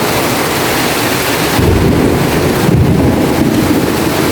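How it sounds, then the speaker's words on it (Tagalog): Heavy rain pours down loudly and steadily, a dense close roar with a deep rumble of thunder swelling partway through and wind buffeting the microphone, with no talking. "Ang lakas ng ulan."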